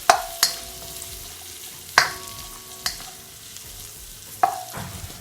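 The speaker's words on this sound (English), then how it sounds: "Just gonna give it a stir." Onions, scallion and chili are stirred in a hot frying pan for salt and pepper chicken wings. A spatula knocks sharply against the pan four times over a low sizzle.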